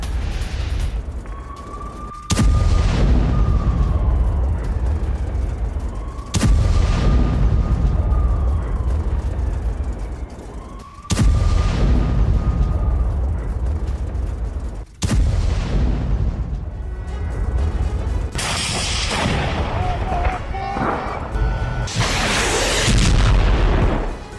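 Explosions from Israeli air strikes on Khan Yunis, a series of heavy booming blasts every few seconds with long rumbling tails, a descending whistle before several impacts, and dense crackling later on.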